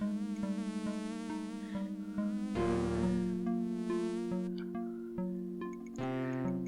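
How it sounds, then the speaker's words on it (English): A buzzing fly from the Space Quest V computer game drones along with synthesized game music, the insect's buzz wavering over steady tonal notes without any voices. "then Cliffy will think this is just an annoying fly"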